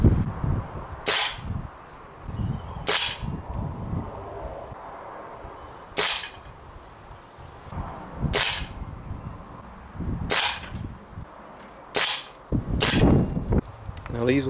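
An air rifle fires RWS Super H Point pellets at a target, a sharp crack sounding seven times at irregular spacing a second or two apart, with quiet handling noise in between.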